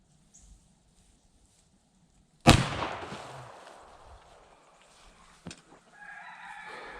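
One sharp, loud gunshot from an 18-inch Colt Dragoon revolver cracks outdoors and rings away into a long decay, followed by a faint knock and a distant rooster crowing.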